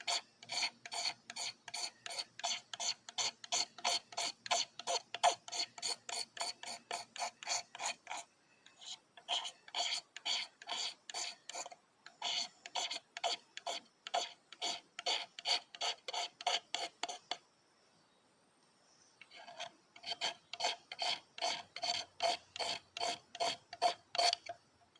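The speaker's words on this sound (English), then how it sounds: "Now I'm going to take this knife and I'm going to scrape off a big pile this time." A knife blade scrapes a big pile of shavings off a wooden feather stick outdoors, a close, steady run of rapid rasping strokes in several long bursts separated by short pauses.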